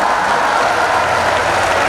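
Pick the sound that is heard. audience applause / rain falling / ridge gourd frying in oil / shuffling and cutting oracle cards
audience applause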